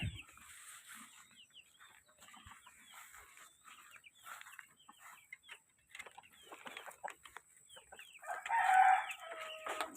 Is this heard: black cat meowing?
no